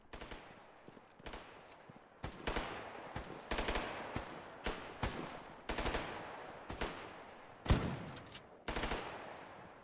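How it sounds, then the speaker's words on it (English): Gunfire in the video game Stalker GAMMA: repeated sharp shots and short bursts at irregular intervals, loud and close, with no talking during the exchange. "What are we shooting at, fellas?"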